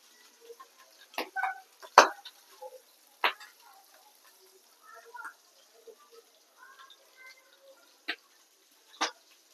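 Fish frying in hot oil with scattered sharp pops and crackles at irregular intervals, over a quiet, faint sizzle.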